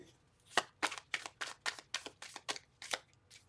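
Tarot cards riffle in quick, crisp bursts, about a dozen rapid shuffling snaps close by, with no talking.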